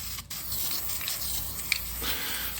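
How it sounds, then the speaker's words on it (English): Steady abrasive block sanding of primer on a 1971 El Camino body, a dry rasping stroke repeating continuously at close range. "block sanding primer today."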